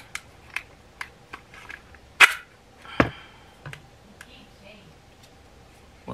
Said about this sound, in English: let me put my safety on